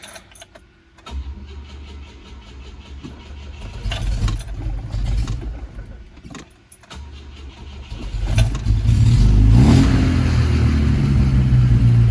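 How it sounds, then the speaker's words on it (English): A 1972 Volvo 145S with a swapped B20 engine starts up and settles into idle. It then revs loudly and hangs high before slowly dropping back toward an erratic idle, heard up close with no talk. "It's still, the idle's a little erratic, so it's slow to return to idle basically,"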